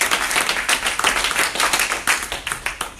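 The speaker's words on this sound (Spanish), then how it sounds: "Dar un aplauso a Cristo." A church congregation applauds for Christ during a service, dense steady clapping from many hands nearby, lasting a few seconds with slight swells, no speech over it.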